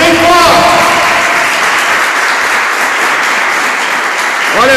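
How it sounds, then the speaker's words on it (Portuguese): A church congregation claps loudly and continuously in a dense, sustained wave of applause, with a voice briefly heard at the start and end. "Vamos aplaudir Jesus apesar desse frio."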